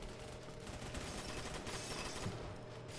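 Rapid video game gunfire crackles in a dense, continuous barrage of overlapping shots at moderate distance, with no talking.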